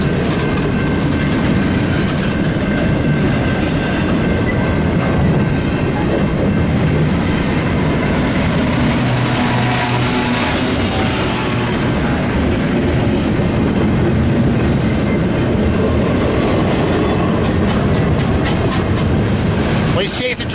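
A long freight train rolls past at Cajon Pass, loud and near, its wheels clacking rhythmically over the rails in a continuous roar for the whole stretch, while people talk over it.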